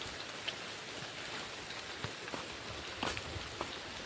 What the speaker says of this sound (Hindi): ये देखो अभी बारिश हो रहा है थोड़ा थोड़ा